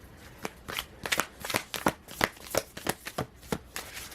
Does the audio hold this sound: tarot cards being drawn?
yes